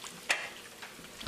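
Onion, shallot and tomato paste fry together in a pot for Nigerian party jollof rice, a soft, steady sizzle broken by a few brief stirring scrapes, close by and quiet.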